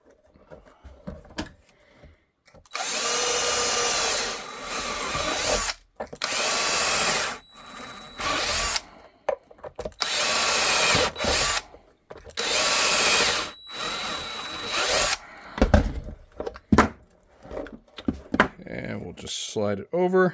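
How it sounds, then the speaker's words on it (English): A power drill with a 1/4 inch bit bores holster holes in a foam-press holster for an FN 545, loud repeated bursts of drilling separated by short pauses, with quieter handling noise between runs. "I'm going to drill these out with a 1/4 inch drill bit."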